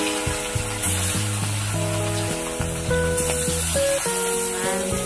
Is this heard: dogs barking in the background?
no